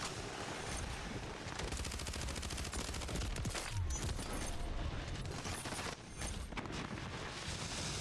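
Continuous automatic gunfire in Call of Duty Warzone, a steady dense rattle of rapid shots with a few louder cracks, fairly even in level throughout.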